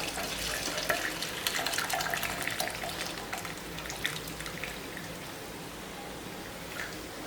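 Spinach stem soup being poured through a strainer, a continuous soft trickle and splashing of liquid with irregular drips, fairly quiet and close, no talking.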